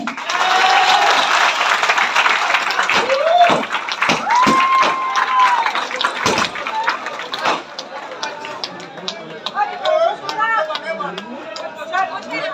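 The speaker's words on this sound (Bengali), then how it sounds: "করতালির মাধ্যমে ম্যাডামকে স্বাগত জানাচ্ছি।" An audience at a Luminous Group corporate programme applauds to welcome a guest. Dense, loud clapping fills the whole stretch, with crowd chatter and a few whistle-like tones mixed in.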